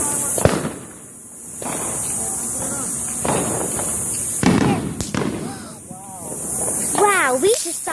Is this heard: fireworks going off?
yes